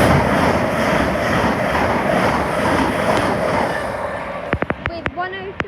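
Class 37 locomotive 37110 passes through Stevenage station on the East Coast Main Line with a loud sustained rumble and roar that fades near the end, followed by a few sharp clanks.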